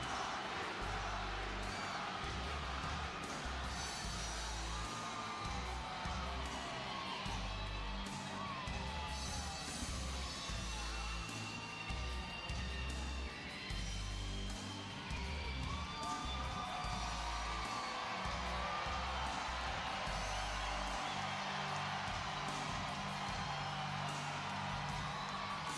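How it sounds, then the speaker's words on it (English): A wrestling arena crowd at a SmackDown event roars steadily throughout, with whoops and yells rising above the dense, continuous cheering, heard at some distance. "At least the crowd are active now."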